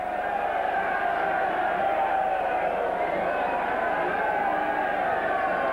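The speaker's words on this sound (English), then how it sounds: "Sympathetic cheers." Crowd at an evening rugby league match between St Helens and Warrington, a steady distant wash of massed voices and murmured cheering, even and sustained throughout with no sharp peaks.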